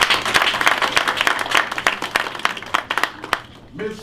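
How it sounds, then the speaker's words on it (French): Crowd applause at a UDPS 33rd anniversary celebration, a dense wash of many hands clapping steadily before tapering off, with a voice rising briefly at the end. "Mais ensemble, pouvons-nous acclamer pour nos enfants qui sont là présents aujourd'hui?"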